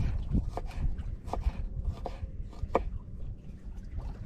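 A knife chopping two large garlic cloves on a board at an outdoor kayak cooking session, about seven crisp separate cuts in a loose rhythm, close and moderately loud over a faint background.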